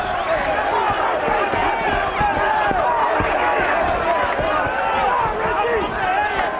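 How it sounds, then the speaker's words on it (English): A loud, vocal boxing crowd roars and cheers steadily through a middleweight title bout at the Meadowlands arena, with commentary voices talking over the continuous arena din. "A very vocal crowd here at the Meadowlands."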